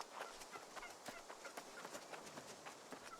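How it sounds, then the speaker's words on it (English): Turkeys in the video game New World gobble and cluck in a steady, busy stream of short bursts, a flock calling close and loud with no speech over it. "interesting that there are so many turkeys"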